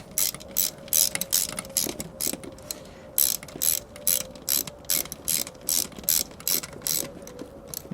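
Steady ratchet clicking in repeated short bursts while intake manifold bolts are snugged down on a GM Ecotec 1.4L turbocharged engine, close and clear with no talk.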